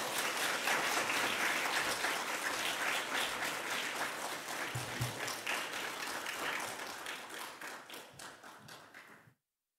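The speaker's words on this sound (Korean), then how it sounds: "우리 특별히 노진준 목사님 나오실 때 우리 큰 박수로 환영하는 박수로 맞이하겠습니다" A church congregation gives a long round of welcoming applause as a pastor comes forward at a revival service, steady dense clapping from a large crowd that fades out near the end.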